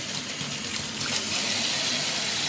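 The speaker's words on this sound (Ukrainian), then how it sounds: "І буду зараз мити перець, різати, спочатку мити." Running tap water gushing steadily while peppers are washed, an even close-up rush with no breaks.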